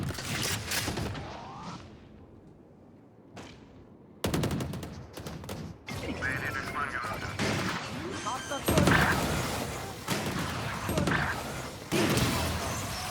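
Heavy gunfire and blasts in rapid bursts in the video game Valorant, with a loud crashing explosion hitting partway through and chaotic noise continuing after.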